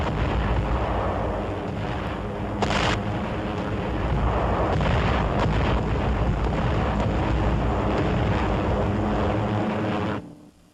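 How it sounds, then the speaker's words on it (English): Royal Air Force bombers fly over the port city of Brest on a bombing raid against the U-boat base, a dense, loud, continuous engine roar with rumbling bursts that holds steady and then cuts off abruptly near the end. "Planes of the Royal Air Force fly over the beleaguered port city of Brest to bomb the vital Nazi U-boat"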